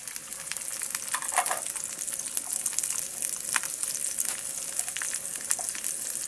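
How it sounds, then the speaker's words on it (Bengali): Chopped onion and garlic fry in a pan for a mushroom vegetable dish, giving a steady, close crackling sizzle with scattered pops and light stirring throughout, no voices. "পেঁয়াজ এবং রসুন কুচিটাকে আমি সুন্দর করে ভেজে নেব ব্রাউন কালার করে।"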